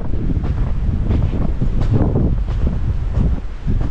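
Strong wind of about 100 km/h sweeping across snowy ground, a loud, continuous roar buffeting the microphone in rumbling gusts throughout, with no one speaking.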